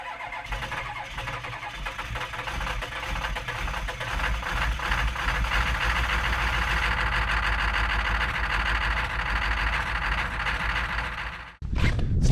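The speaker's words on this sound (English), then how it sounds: "We'll start up the old 1-ton back here and go get some." An old one-ton truck engine cranks and catches on a 20-degree morning, then settles into a loud, steady rough idle that runs for about ten seconds before cutting out abruptly.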